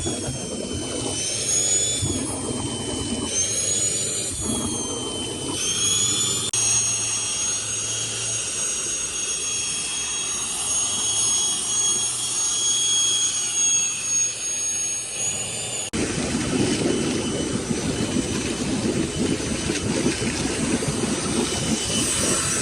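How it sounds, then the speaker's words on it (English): A loud air blower roars steadily while blowing out the plumbing lines of a pool during closing, a continuous rushing drone with shifting pitch that changes character partway through, close and sustained. "Just finishing all blowing the lines."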